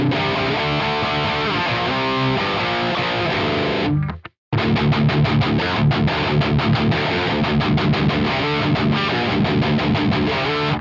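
Heavily distorted electric guitar played through a Quad Cortex modeler, set to a classic rock tone recreating Ghost's "Rats", with dense chugging riffs that drop out briefly near the middle and then return as loud rhythmic chords.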